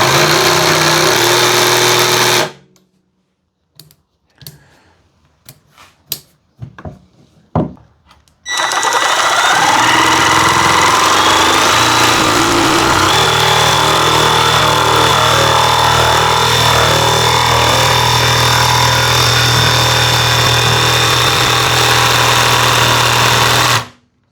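A Seesii cordless jigsaw whirs at full speed, stops, sputters in short bursts as the variable-speed trigger is feathered, then runs long and steady before shutting off.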